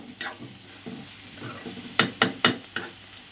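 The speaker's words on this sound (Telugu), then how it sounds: "మధ్యలో ఇలా కలుపుతూ ఉంటే ఆనియన్స్ అన్నీ ఈవెన్గా ఫ్రై అవుతాయి" Onions frying in a pan and being stirred, with soft sizzling under a series of sharp spoon knocks against the pan, four distinct clacks near the end, close and fairly loud, no talking.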